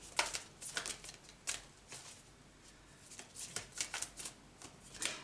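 Tarot cards slide and flick off a deck in a quiet room, a series of soft, sharp riffling taps spaced irregularly, close and fairly faint with no talking.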